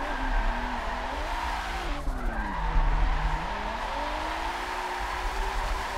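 SSR pro drift competition car skidding through a drift, a long continuous tire squeal over a roaring engine whose pitch dips and rises, loud and close with no talk.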